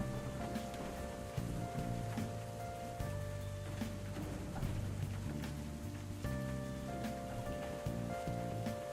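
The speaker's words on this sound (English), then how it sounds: "Just some casual rain in the background?" Steady background rain hisses and patters continuously at low volume, with soft sustained tonal notes layered over it.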